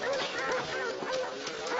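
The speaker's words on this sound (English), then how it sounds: "Can you, make him bark for me?" A dog barks and yips in short bursts over a steady background in an indoor police-station scene, with speech mixed in.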